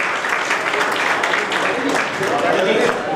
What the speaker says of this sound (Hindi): अब आप सबकी तालियां रुकनी नहीं चाहिए